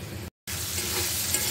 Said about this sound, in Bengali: এখন আমি আস্তে আস্তে কষিয়ে নিচ্ছি মশলাটাকে